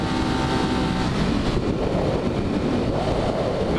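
Ducati Monster 1200 motorcycle engine revving high around 8,000 RPM while riding, a loud continuous droning roar mixed with rushing wind noise.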